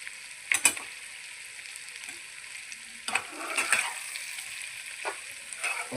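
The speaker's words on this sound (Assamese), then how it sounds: "লগতে আলুখিনিও ইয়াৰ লগতে মাংসৰ লগতে একেলগে ফ্ৰাই কৰি ল'ম।" Potatoes fry with duck meat in a pan for an Assamese duck curry, a soft continuous sizzle broken by a few sharper stirring scrapes and crackles, moderately quiet with no talk.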